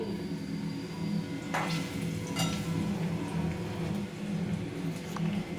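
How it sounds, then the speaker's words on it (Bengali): Pitha dough fries in hot ghee, giving a soft, continuous bubbling sizzle with a couple of light clinks from a utensil, close and moderately quiet. "সেই কারণে আমি এটাকে ঘিয়ের মধ্যে ভেজে নিচ্ছি।"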